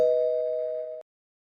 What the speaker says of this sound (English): No one makes cookies like Grandma, said Ma, as the doorbell rang.